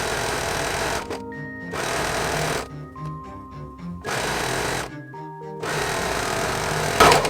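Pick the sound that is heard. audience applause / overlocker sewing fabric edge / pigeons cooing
overlocker sewing fabric edge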